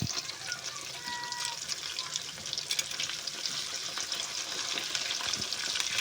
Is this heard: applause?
no